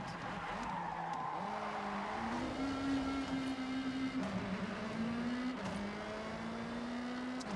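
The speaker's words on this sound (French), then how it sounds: "les bruits des moteurs sont fantastiques" Steady engine drone with rising and falling pitch as gears shift, plus a continuous tire squeal, synthetic and constant, from the racing game Forza Horizon 6, no talking.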